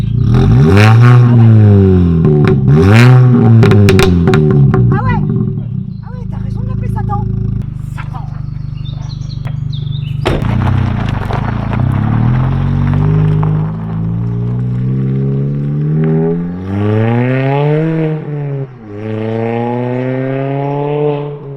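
A Mini Cooper GP R53 engine in sport mode revs repeatedly, its pitch rising and falling in loud swells up close, with people talking over and between the revs.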